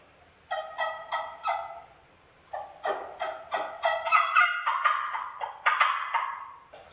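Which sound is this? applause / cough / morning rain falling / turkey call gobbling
turkey call gobbling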